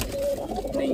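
Pigeon cooing close by, a steady low murmuring call running through the full second on a rooftop loft among pet pigeons, with soft ambient noise beneath and no talking.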